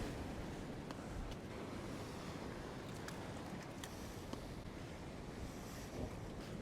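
Rough, frothing ocean water churns steadily where a blue groper is being fished, a continuous broadband wash of surf and wind buffeting the microphone, with no voices over it.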